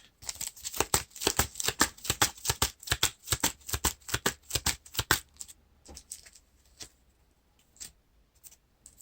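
Cards riffle-shuffled into the encounter deck during a Lord of the Rings LCG saga session, a fast run of crisp paper flutters and snaps, loud and close, easing into a few softer taps and settling sounds with no voices.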